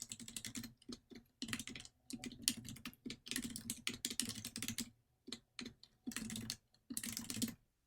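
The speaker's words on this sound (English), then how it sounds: "I can type it in here directly" Fingers type on a computer keyboard in quick bursts of close, soft key clicks separated by short pauses, with no talking.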